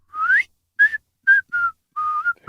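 Melody of a song whistled by a person, a series of short tonal phrases with gliding pitch and brief pauses between them, close and clear with no talk.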